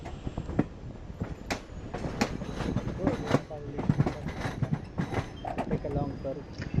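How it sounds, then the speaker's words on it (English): A train rolls along with rhythmic wheel clacks and metallic clunks over track joints, moderately close, with some rumbling in between, as it enters Erode Junction railway station in India. "We are now entering"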